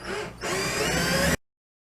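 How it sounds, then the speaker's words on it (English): A power drill whirs continuously, boring through an existing hole into a piece fixed to the wall behind it while a corner shower glass surround is installed; a brief dip comes early, then a steady loud run and an abrupt stop. "we're drilling a hole through this hole into the piece behind there that's hooked to the wall"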